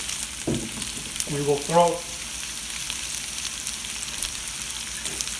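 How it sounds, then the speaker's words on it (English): Garlic frying and browning in a pan gives a steady, close crackling sizzle throughout, with a person briefly speaking over it near the start. "The whole house smells like this amazing garlic. And it's just browning on the edges"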